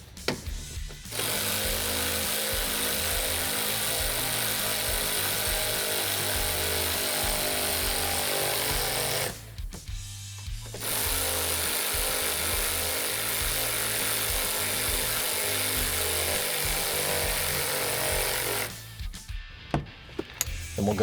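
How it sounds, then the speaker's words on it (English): Electric ratchet tightening hardware on a Polaris RZR PRO XP trunk bed enclosure: two long, loud whirring runs of the tool close by, each about eight seconds, separated by a short pause, with a brief start at the end. "So now we're gonna take our electric ratchet here,"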